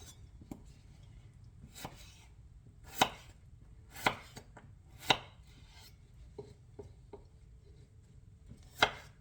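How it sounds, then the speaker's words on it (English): Potatoes being cut into smaller pieces with a knife on a cutting board, a series of sharp, close chops at an irregular pace, some louder thunks and lighter taps between them, with no talking. "I'm going to cut my potatoes smaller."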